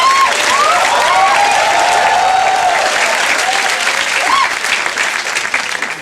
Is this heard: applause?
yes